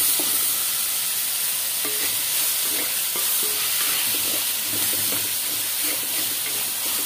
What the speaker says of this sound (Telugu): చక్కగా కలిపేసేసుకొని బాగా ఎర్రగా వేగనివ్వాలండి.